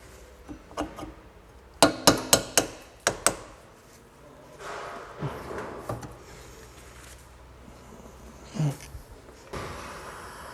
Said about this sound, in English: Copper mallet, brass punch.